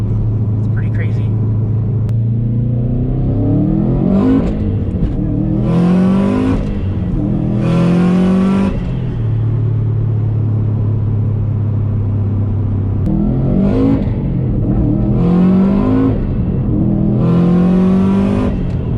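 A 2004 Subaru WRX STI driven hard on snowy roads, its turbocharged engine revving repeatedly at wide-open throttle; loud, rising pulls through the gears with shifts between them and steady idle-like rumble in the gaps, heard from inside the car.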